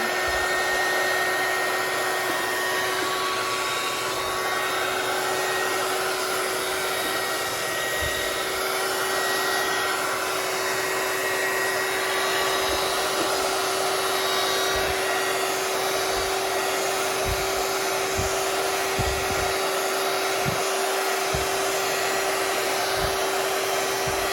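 A hair dryer blows hot air over candle wax in a steady, loud, continuous roar lasting throughout, close by, with no talking.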